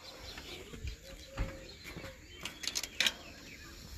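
Pigeons kept by a pigeon fancier coo and flap their wings in short bursts, with scattered chirps and rustles close by against a quiet background.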